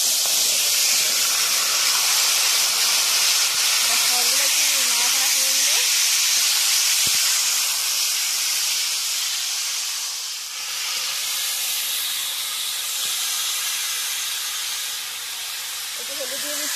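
Tomatoes and kohlrabi hitting hot oil with panch phoron spices, a loud, steady hiss of sizzling that holds throughout, with a brief voice underneath early on.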